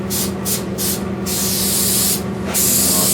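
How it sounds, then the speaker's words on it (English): Aerosol adhesive sprayed onto the roof liner of a 1978 Nova: a close, loud hissing spray in short bursts with brief gaps, then a longer steady blast, with no voices. "I'll spray this. Make sure I get in good where I left off. Spraying my edges good."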